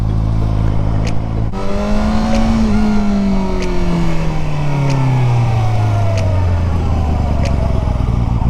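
KOVE 450RR four-cylinder 450 sport motorcycle accelerating hard from a launch in first gear, engine note climbing steadily in pitch and staying loud and close throughout after a sharp start.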